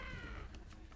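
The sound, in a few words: performer imitating a screeching cat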